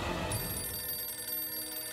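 A telephone rings in a household scene from a Hindi TV drama, with a bright electronic bell tone sustained for about two seconds and no speech over it.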